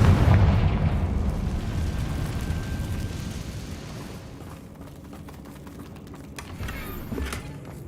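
A Confringo fire curse explodes in Hogwarts Legacy, a loud booming blast up front that rumbles and fades, followed by scattered crackles and small bursts.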